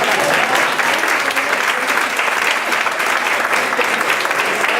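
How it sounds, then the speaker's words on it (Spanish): Loud, dense applause from the audience at an interactive flamenco show in Algeciras, a sustained even roar of many hands clapping close by for several seconds, without speech over it. "Un aplauso para vosotros."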